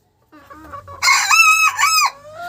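A rooster crows loudly and close, a long harmonic call, preceded by soft low hen clucks and murmurs.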